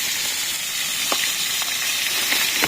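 Boal fish curry sizzles and fries steadily in a pan, a continuous close crackle with a few soft stirring clinks.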